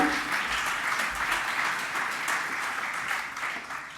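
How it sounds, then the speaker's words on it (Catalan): A conference audience gives sustained applause for a speaker, a moderately loud and steady wash of many hands clapping that swells and dips slightly, with no talking. "Un aplaudiment"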